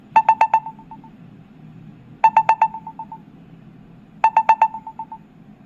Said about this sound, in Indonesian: coba aku telepon temanku, Dr. Gregory Budiman.